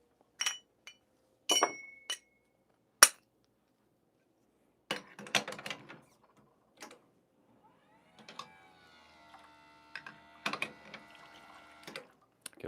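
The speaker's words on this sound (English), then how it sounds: "I'm just gonna switch out the basket here right now." Metal espresso filter baskets being swapped on a coffee machine, scattered sharp clinks and clacks with quiet gaps between, close and light, followed by softer rattling handling sounds.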